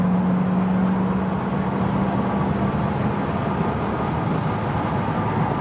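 A 1966 Ford Mustang convertible with a 289 V8 and a quiet factory-type exhaust accelerates, giving a steady, full engine drone with a low hum that holds level throughout, heard from inside the car without talk.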